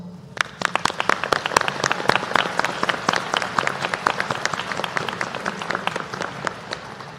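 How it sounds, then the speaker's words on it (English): Graduates and families at a winter university graduate commencement clap together, a steady crowd applause of many sharp, distinct claps sustained throughout at moderate distance, with no speech. "Please give yourselves a round of applause."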